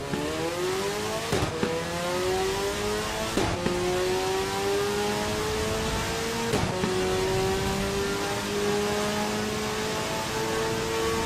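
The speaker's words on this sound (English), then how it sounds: "Yeah, the shifts in this car are amazing. This car sounds good." A racing car engine in the sim racing game Assetto Corsa EVO revs hard and climbs through gears, with several sharp shift breaks, loud and continuous throughout.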